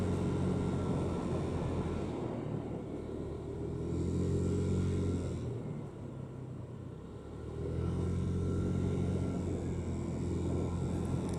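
Motorcycle engine at full throttle climbing a mountain road to Puncak Suroloyo, a loud continuous droning roar with heavy wind rumble that dips briefly twice and then surges back, close and steady, with no talking.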